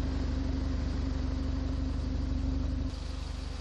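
A car engine idles steadily close by during a mechanic's sound-based diagnosis of a mechanical car, a low, even rumble with a constant hum that dips slightly near the end, with no talking.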